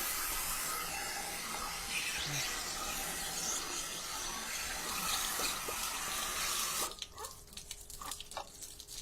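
Water rushing through an RV water heater during a final flush rinse, a steady close hiss and spray that cuts off sharply near the end, leaving a few faint drips and clanks.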